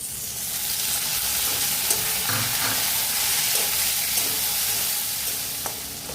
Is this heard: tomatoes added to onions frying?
yes